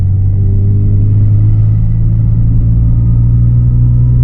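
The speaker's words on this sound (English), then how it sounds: "you're going to hear like a little whine. And that whine is coming from the transmission." Lexus IS300 Sportcross under acceleration, heard from inside with a loud steady low engine drone and a faint thin whine riding above it, continuous and without talk.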